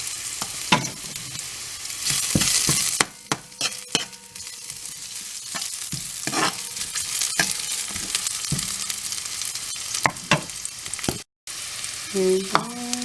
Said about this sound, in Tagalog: Umpisa na natin i-gisa sa bawang at saka ginger.